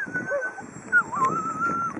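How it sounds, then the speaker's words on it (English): A sled dog on an Alaska dog-sledding team whimpers in thin, wavering high whines while its driver tends to it, close and continuous, with a short yip near the middle. "Driver is fixing one of the dogs."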